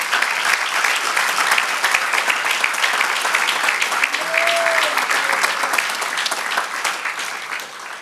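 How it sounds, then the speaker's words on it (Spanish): A crowd claps steadily and loudly for several seconds, the applause thinning slightly toward the end. "Dele el aplauso al Señor."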